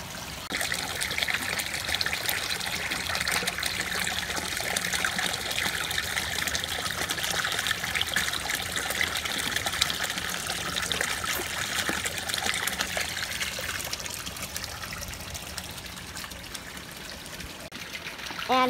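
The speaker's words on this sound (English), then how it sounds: "Right now, we're topping off the pond with some fresh water." Fresh water trickles into a garden koi pond on a cold winter day, a steady close splashing stream that runs evenly and fairly loud throughout, alone with no voices.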